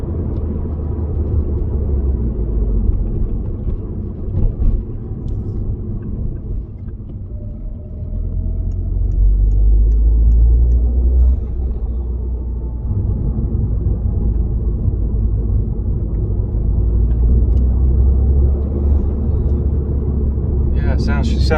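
Citroen DS3 engine fitted with a performance induction kit, a deep low rumble that swells and surges as it revs, steady and loud throughout, with people talking at points.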